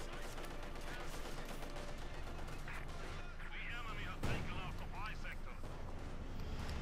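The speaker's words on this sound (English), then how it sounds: "Shot there from the Pak-40, which penetrates the thick frontal armor of the IS-2 heavy tank" A Pak-40 anti-tank gun fires at an IS-2 heavy tank in the World War II strategy game Company of Heroes 2. A sharp report cuts through a dense bed of battle noise while a voice talks over it.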